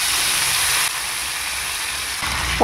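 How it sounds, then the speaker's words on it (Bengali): Katla fish frying in hot oil in a pan, a steady loud broadband sizzle and hiss that runs throughout, with a slight drop partway and a small pop near the end. "করে আমি মাছগুলো ভেজে নিচ্ছি।"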